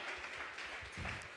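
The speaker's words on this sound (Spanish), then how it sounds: "Vamos a regalarle ofrenda de palmas al Dios de la gloria." Congregation clapping during a Sunday church service, a steady dense patter of many hands throughout a short burst.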